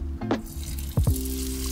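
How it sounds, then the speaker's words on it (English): Shrimp frying in 2 to 3 inches of hot oil at 375 degrees, a steady close sizzle with a few sharper bubbling bursts as pieces shift in the pan. "Fry the shrimp until lightly brown."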